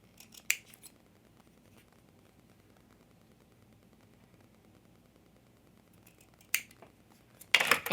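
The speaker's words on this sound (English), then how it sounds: "I'm going to cut it off. And then I'm going to cut like a triangle." Scissors snip a small paper triangle from a mini paper pad, giving a few sharp, close cuts: one near the start and a quick pair of snips at the end, separated by near silence.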